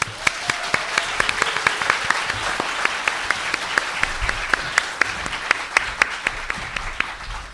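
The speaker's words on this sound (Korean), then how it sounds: "두 분을 큰 박수로 맞이하겠습니다" Audience at a live public broadcast of a political talk show claps to welcome two guests; steady applause with distinct sharp individual claps standing out near the microphone, continuing throughout.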